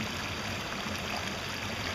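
Slow water running through a gold prospecting sluice box, a steady, dense rushing and gurgling wash that holds constant throughout, close and fairly loud with no voices.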